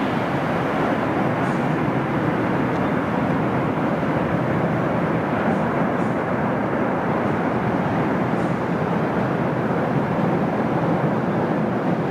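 A jet airliner landing in a crosswind at London Heathrow gives a steady, loud, broad roar that holds evenly throughout with no talking.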